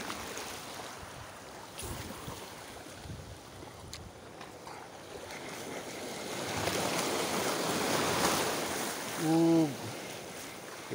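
Sea waves washing near a small boat on open water while fishing, a broad wind-blown rush that swells louder toward the end, with a brief tonal sound near the close.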